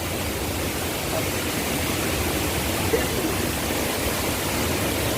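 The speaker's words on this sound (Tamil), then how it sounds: "நீச்சல் குளத்தோடு சேர்ந்த அருவி" A waterfall pours into a swimming pool at Pachamalai, making a dense, steady roar of rushing water that stays constant and fairly loud throughout.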